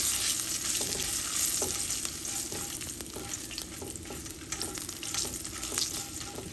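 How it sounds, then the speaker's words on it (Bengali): Peanuts frying with turmeric and salt in hot oil in a pan, a steady close sizzle with scraping stir strokes and occasional sharp crackles throughout, no talking. "বাদামের ভিতরে একটু হলুদ আর লবণ দিয়ে বাদামটাকে ভেজে নিচ্ছি।"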